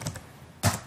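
Computer keyboard keys tapped a few times, soft quick clicks near the start and one firmer keystroke toward the end, close-up with no voices.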